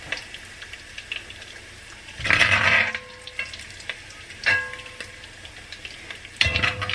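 Crispy bacon frying in a pan while being scooped out, a faint steady sizzle broken by several louder bursts of crackling and scraping as the strips are lifted.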